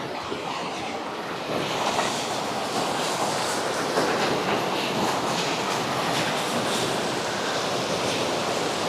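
Rushing water during a backwater boat ride in Alleppey, a steady, broadband roar of flowing water close by, loud and unbroken throughout.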